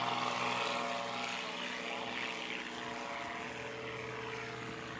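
A propeller airplane taking off at the Sodbusters STOL competition, its engine a steady loud droning roar that fades slightly as it pulls away, heard from outdoors.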